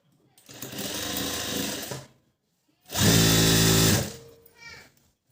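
An electric sewing machine runs a cover stitch on garment fabric in two close, loud bursts, the second louder and deeper, each about a second long, with a brief faint sound after.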